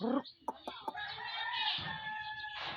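A rooster crows in a long, strained call, with a few clucks just before, fairly close outdoors in a backyard garden.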